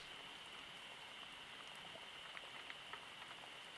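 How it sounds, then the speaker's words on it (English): Rain taps against windows during a storm beside a fire in a forest cabin, a soft, steady patter with faint scattered drops, distant and quiet, with no voices. "The sound of the rain on the windows."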